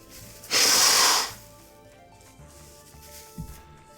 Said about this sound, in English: If you'll excuse me, I will blow my nose